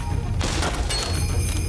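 Gunshots in Rise of the Ronin: a burst of loud, broadband blasts around the middle of the clip, set over a steady low rumble of game background.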